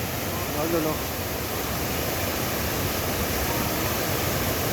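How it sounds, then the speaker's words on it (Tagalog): Mt. Maarat falls in San Mateo, Rizal: powerful waterfall roaring in a dense, continuous wash of white noise close by, with someone talking faintly over it. "napakalakas ng tubig"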